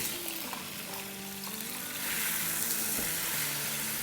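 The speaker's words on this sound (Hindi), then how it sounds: "बस आलू को फ्राई करेंगे अराउंड 3 मिनट के आसपास।" Medium-sized potato pieces fry in a pan, giving a steady, close hiss and crackle of sizzling oil that swells slightly louder halfway through, with faint stirring scrapes.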